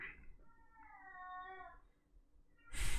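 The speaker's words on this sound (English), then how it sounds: "I'm sure you hear the cat." A domestic cat gives a single drawn-out meow indoors, a clear wavering cry of about a second over quiet background, followed by a burst of louder noise.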